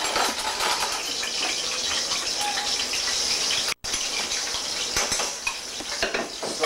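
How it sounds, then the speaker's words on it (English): Garlic sautéing in a pan over a flame, a steady broadband sizzle with clinks of pan and utensil running throughout, briefly cutting out once midway. "Saute the garlic"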